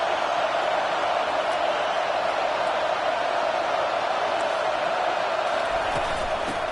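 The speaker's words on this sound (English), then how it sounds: "It's early, but this crowd is fired up. Listen to this noise here." Steady, dense roar of a football stadium crowd cheering early in a game, a loud continuous wash of noise with no break throughout.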